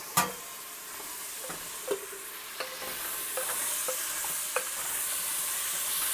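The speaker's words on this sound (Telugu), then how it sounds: "ఒక్కసారి మిక్స్ చేసేసుకుందాము ముక్కలన్నీ" Vegetable pieces for sambar are stirred in a steel pot, with a few scattered spoon clinks and scrapes over a faint, low sizzle and hiss.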